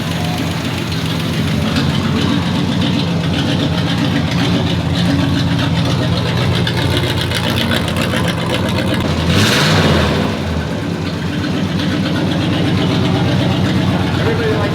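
A 1930s dirt race car engine idling, a loud, rough, steady rumble close by that runs the whole time, with people talking over it.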